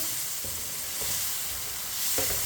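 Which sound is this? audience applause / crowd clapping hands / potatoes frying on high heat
potatoes frying on high heat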